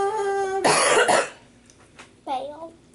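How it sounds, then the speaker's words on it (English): One loud, close cough bursts out between snatches of someone talking before and after it. "Sorry, I coughed right when you said that"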